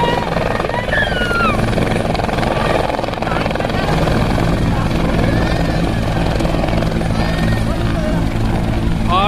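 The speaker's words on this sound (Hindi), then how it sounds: "ये मुख्यमंत्री जी का हेलीकॉप्टर यहाँ पर लैंडिंग हो चुका है" A helicopter carrying a state Chief Minister lands at an outdoor rally ground amid flying dust, its loud continuous rotor and engine roar filling the whole stretch while a crowd murmurs underneath.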